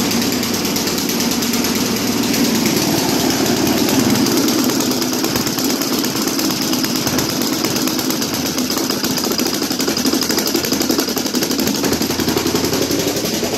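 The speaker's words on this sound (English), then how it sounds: "not the smoothest running engine" A lawnmower-engine generator idles unevenly, a rough, sputtering drone with an irregular pulse running steadily for the whole stretch, close and fairly loud.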